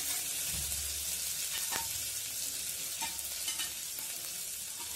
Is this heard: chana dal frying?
yes